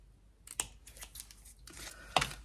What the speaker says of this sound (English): with my ribbon scissors, I can just tidy up the ends of that